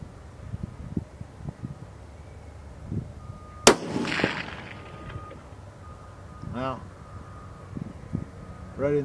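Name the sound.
rifle shots from a Bergara B14 Wilderness carbon .308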